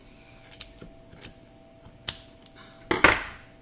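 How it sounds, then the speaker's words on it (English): Sewing scissors snip yarn several times at close range, light crisp clicks at irregular intervals, ending with a louder double cut. "Actually, I'm using sewing scissors"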